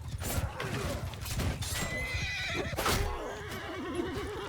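A horse whinnies in the video game Mount & Blade II: Bannerlord amid battle noise, with a rising, wavering neigh late in the clip over scattered hoof clatter and impacts, no talk.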